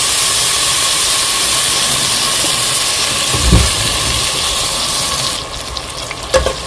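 Mustard oil and olive oil sizzle together in a hot pan as chicken is about to be cooked, a steady loud hiss that drops away near the end with a few light clinks.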